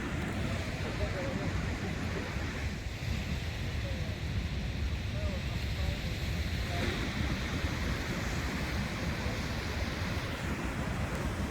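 Ocean waves break and wash continuously on the beach at Santa Monica, California, a loud, steady roar of surf mixed with wind noise on the microphone.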